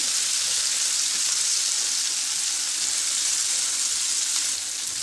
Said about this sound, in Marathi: आता आपण कारलं घालायचं त्यामध्ये आणि असं छान परतलं पाहिजे दोन साईड